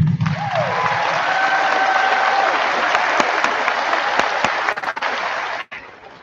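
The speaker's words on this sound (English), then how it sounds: "So I would like to congratulate the class to give them a great round of applause." A graduation audience applauds the class in a loud, dense, sustained roar of clapping that fades out near the end, with a brief voice at the start.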